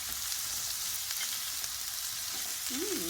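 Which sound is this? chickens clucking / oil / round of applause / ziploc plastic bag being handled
oil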